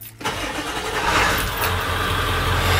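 A Ford car engine cranks briefly and catches, then settles into a steady, loud idle that continues to the end, with no talking.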